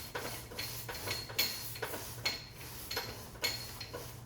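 Block sanding automotive paint by hand with Duragold 400-grit sandpaper on a 1963 Cadillac Coupe de Ville, a steady gritty rasping in repeated strokes about every half second to second, close and fairly loud with no talking.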